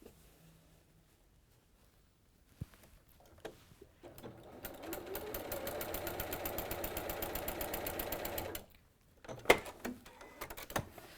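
A sewing machine running a quick line of quilting stitches, a steady close mechanical whir for a few seconds, framed by quiet handling sounds and brief clicks before and after.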